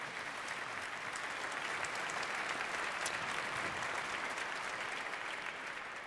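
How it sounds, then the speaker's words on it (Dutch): A concert hall audience at a Christmas concert applauds the conductor Ed Spanjaard returning to the stage, sustained even clapping from many hands that holds at moderate level throughout, with no talking on top. "En dat mag natuurlijk met een applaus vergezeld gaan."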